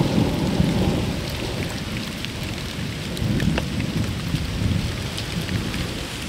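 Heavy rain pours steadily in the wilderness, a dense close hiss with low thunder rumbling through, loud and continuous with no talking.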